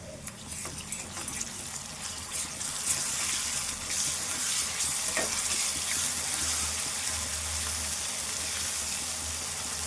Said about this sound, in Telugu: ఇప్పుడు అల్లము వెల్లుల్లి పేస్ట్ వేసుకుందాము